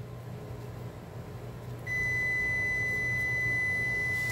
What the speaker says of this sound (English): That's the timer for my Spanish rice.